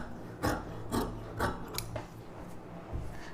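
Scissors snip through fabric while trimming extra pieces from an umbrella top pattern, giving about five or six short, crisp cuts at an even pace, close and fairly quiet, with no talking.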